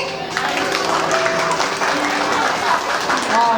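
Wedding guests clap in a warm, steady burst of applause through the hall, filling the whole stretch at moderate loudness, with faint tonal music or chatter threading beneath.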